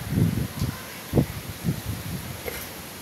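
Typhoon Tino winds gusting through leaves, a steady rushing rustle with low buffeting surges, close and fairly loud, with no one talking.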